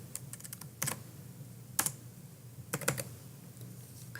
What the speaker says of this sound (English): So let's type in Kale.